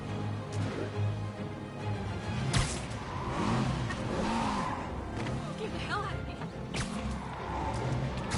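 In a Spider-Man video game, a car skids and revs, with tires squealing in sweeping arcs over a continuous engine roar and a few sharp whooshes, amid dense game sound.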